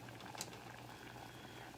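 Water at a steady boil in a pot on a stovetop while wild rice cooks, a continuous soft bubbling and patter with a faint low hum underneath.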